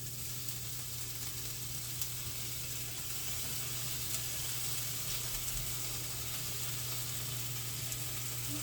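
Garlic sizzles steadily in a pan as it is given a gentle stir, a quiet, continuous hiss with a low hum underneath and no talking.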